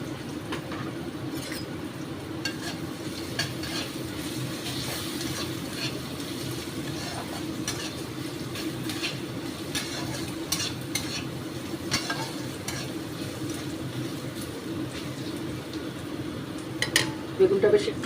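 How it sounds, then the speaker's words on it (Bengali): Eggplant with turmeric fries in a pan for a fenugreek leaf curry. A steady low sizzle continues throughout, with frequent scraping and clinking stirs of a utensil against the pan and faint talk now and then. "বেগুনটা বেশ একটু ভাজা ভাজা নরম মতন হচ্ছে"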